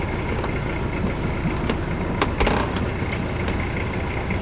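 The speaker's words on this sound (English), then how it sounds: "now we're going to crank the engine over and get moving" A boat engine on the Sea of Cortez runs in a steady, broad rumbling drone, close and fairly loud, with no voices.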